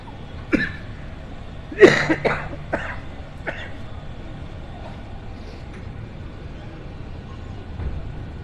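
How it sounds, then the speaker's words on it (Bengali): A few sharp coughs ring out close by, a single one and then a quick cluster, followed by quieter throat sounds over a faint hum. "কাশি হচ্ছে তো"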